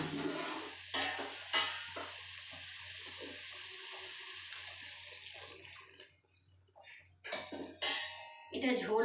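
Water poured into a potato and bean-seed curry in a pan, a steady close splashing and trickling over a low hum that briefly stops and then resumes in short spurts, with a voice talking over it.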